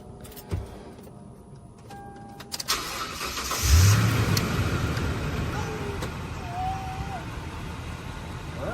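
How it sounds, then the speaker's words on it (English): A Toyota Tundra pickup truck engine cranks and catches, then settles into a steady idle with a faint electric whine and clicks in the background. "We're going to go ahead and start the truck up"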